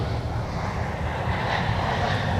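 A fixed-wing airplane departing Minneapolis–St. Paul airport, heard as a steady, loud, continuous engine roar with broad rumble, sustained evenly throughout without voices.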